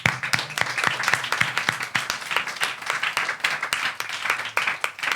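Audience applause in a lecture hall, a steady patter of many hands clapping in quick irregular rhythm, moderately loud and sustained throughout.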